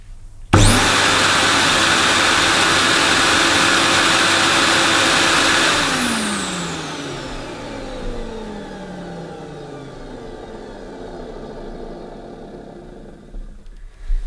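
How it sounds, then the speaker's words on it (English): A Hoover Super Sprint 1200 cylinder vacuum cleaner switches on with a loud, steady motor roar that holds for several seconds, then winds down with a falling whine that fades into quiet. "we'll just give this its initial switch on. Hopefully the motor sounds okay."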